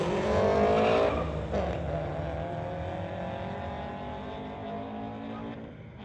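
A 1983 VW and a 2015 Scion run a street-legal drag race at an event. Engines roar loudly at the start, with a squealing whine, then ease into a steady fading drone as the cars pull away.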